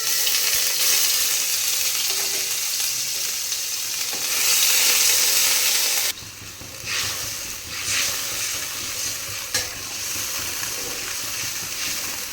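Loud continuous sizzling of ginger-green chilli paste and spice water hitting hot oil in a pan while cooking potato and cauliflower curry, a steady hiss that drops and settles into softer crackling with stirring scrapes.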